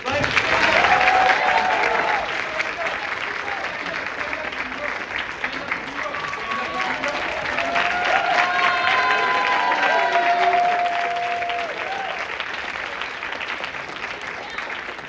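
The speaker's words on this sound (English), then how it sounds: "So can I get a round of applause for our writers?" Audience applause and cheering for the writers at a stage show: a long, dense wash of clapping from a crowd with whoops and raised voices rising through the middle, steady and fairly loud throughout.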